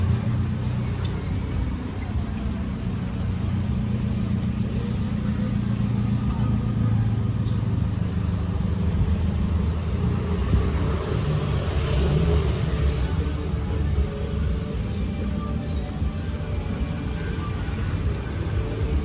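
Steady, dense engine rumble of a street traffic jam in Legian, Kuta, Bali, with cars and motorbikes idling and creeping along nearby, a continuous loud drone lasting throughout with no clear individual passes.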